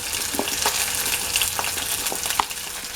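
Chopped onions hit hot oil in a pan for a Tamil fish thokku, giving a steady, close sizzle and frying hiss with small crackles and pops scattered through.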